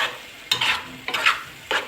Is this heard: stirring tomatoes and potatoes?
yes